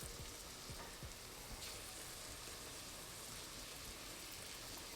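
Shrimp sizzles as it fries in a pan, added for a seasoned shrimp scampi pasta with broccoli; a steady, dense crackling hiss runs throughout at low volume with a few sharper pops near the start.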